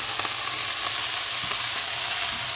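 Garlic sizzles and fries in a pan, a loud, steady crackling hiss close up, with faint stirring scrapes and no voices.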